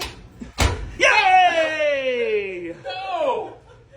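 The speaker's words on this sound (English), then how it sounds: "Shut the door!" A laundry room door shut with a sharp slam, followed immediately by a loud drawn-out vocal whoop and laughter from people nearby.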